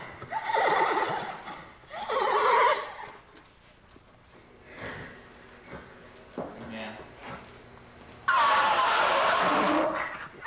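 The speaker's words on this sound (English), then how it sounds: "here comes Stormcat across the bridge there from his paddock" A 20-year-old thoroughbred stallion crossing a bridge from his paddock, with loud repeated neighs and whinnies and some hoof clip-clops, while a person talks over parts of it.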